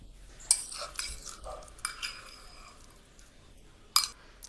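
A spoon scrapes and clinks against a bowl as ground masala for a surmai (kingfish) fry is scooped out, with a sharp tap near the start and another near the end over quiet scraping.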